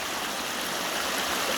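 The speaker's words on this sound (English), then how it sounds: "watching the river flow" River flowing just below Monrovia Falls in North Carolina, a steady, broad rushing hiss of moving water, continuous and even, heard alone without talk.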